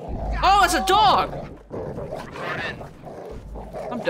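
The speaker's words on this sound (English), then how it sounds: "Oh, it's a dog!" A dog attacks in the video game Watch Dogs 2, with loud snarling, growling bursts near the start and fainter growls later, mixed with excited talk.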